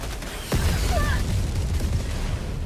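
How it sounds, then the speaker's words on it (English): In the video game Helldivers 2, a sudden explosion strikes down from the sky with a sharp blast. Rumbling, crackling debris and distant booms follow it under continuous battle noise. "Which one of y'all called down the explosion from the sky?"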